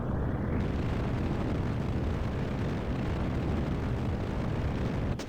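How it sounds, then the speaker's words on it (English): Rocket boosters fire in Kerbal Space Program, a loud, continuous roaring rumble of thrust that holds steady throughout, with no voices over it. "throttle to max, fire the boosters, and separate"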